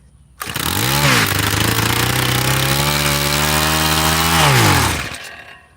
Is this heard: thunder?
no